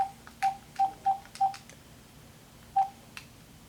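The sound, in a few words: phone dialing via Kenwood car stereo Bluetooth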